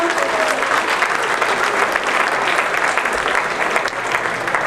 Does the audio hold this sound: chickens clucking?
no